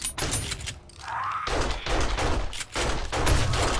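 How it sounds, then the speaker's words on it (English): Shotgun blasts in the zombie survival game 7 Days to Die on console, a few loud, close booming shots separated by short gaps, with a brief whooshing tone between them. "shoot you with a shotgun"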